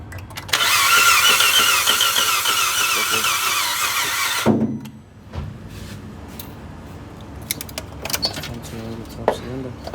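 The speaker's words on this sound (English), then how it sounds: "So here's the sound coming from the engine." Water-damaged 2017 Kia Rio engine cranking and running with a loud rapid rattling, ticking whir that cuts off abruptly, followed by quieter clicks and handling noises nearby.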